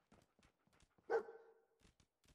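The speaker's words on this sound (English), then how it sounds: "Why are you barking at me?" Dogmeat, the dog in Fallout 4, gives a single clear bark that rings briefly, set among faint, quiet tapping and shuffling sounds.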